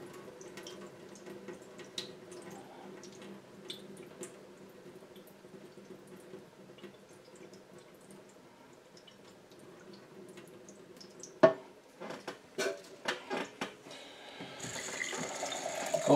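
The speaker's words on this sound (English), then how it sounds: "I think I want to pour it through this strainer because I want to put the floaties and the sludge in the compost afterwards." Water with cucumber seeds and pulp is poured through a strainer, starting as a faint quiet dribble and building into a series of louder splashes and a steady running pour near the end.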